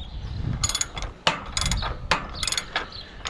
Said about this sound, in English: We have to loosen these bolts out here.